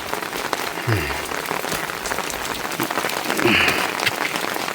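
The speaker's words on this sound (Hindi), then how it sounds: "ज़बरदस्त बारिश होने लग गई है" Heavy rain pours down in a Himalayan hill village, a loud, dense hiss of drops drumming on surfaces, steady throughout and growing a bit heavier near the end.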